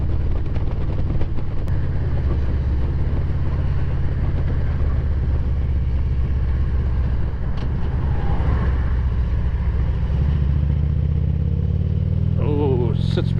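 A Porsche 944 engine heard from inside the car drones low and heavy as it accelerates out of a corner, swelling and climbing in pitch toward the end.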